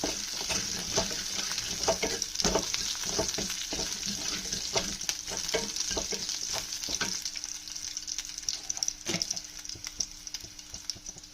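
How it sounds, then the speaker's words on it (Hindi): Chopped green chillies frying in a pan over a slow flame, a steady soft sizzle with scattered stirring scrapes and clicks, moderately quiet and close, with no voices. "अब ये स्लो फ्राई हो चुका है।"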